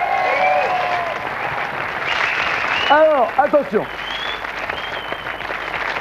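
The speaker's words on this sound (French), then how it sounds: "On les applaudit encore," An audience at a French event applauds again, a sustained wash of clapping with a voice speaking briefly over it midway.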